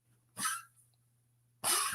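Two sharp, close coughs separated by a short pause, with quiet between them.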